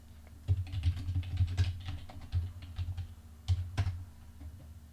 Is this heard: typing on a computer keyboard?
yes